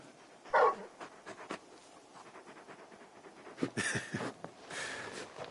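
Large dog panting in the video game Final Fantasy XVI, a soft steady breathy rhythm with a few louder huffs and bursts, close and alone with no talking.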